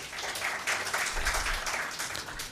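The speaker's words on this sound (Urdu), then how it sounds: "تالیاں ہونی چاہیے" Studio audience applauding during a Rabi-ul-Awwal special quiz program after a correct answer, a steady wash of clapping lasting a few seconds with no talk over it.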